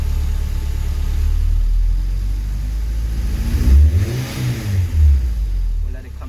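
A K24-swapped Honda CRX engine, with a freshly repaired throttle body, idles with a low rumble, then revs up sharply twice and settles back down, loud and close.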